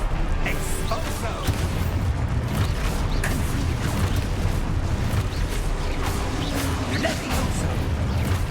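A spell blast in the game Hogwarts Legacy, rumbling booms and crashes thundering densely through the whole stretch, loud and continuous amid layered game effects, with no voice heard.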